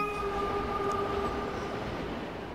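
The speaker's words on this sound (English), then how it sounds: "Didn't know trains went so fast." A fast-moving train rumbles along in Professor Layton and the Lost Future, a loud, steady roar with a sustained horn-like tone on top and no talk.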